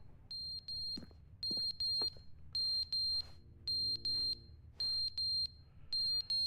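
In The Stanley Parable video game, a smoke alarm repeats shrill double beeps in an even pattern, loud and near, over a faint low rumble with no one speaking.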